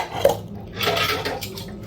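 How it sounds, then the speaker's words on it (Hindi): Dishes and utensils being washed and scrubbed by hand in a home kitchen: close clinks of metal pots and cutlery, a brief sharp clatter, then a steady scraping scrub with no voices. "इसलिए मैं पहले ही कुछ बर्तन मांज लेती हूँ।"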